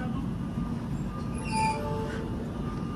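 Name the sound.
train at Shegaon station platform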